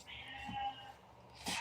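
A house cat meowing indoors, a drawn-out meow followed by a shorter second cry, faint and nearby in a quiet room.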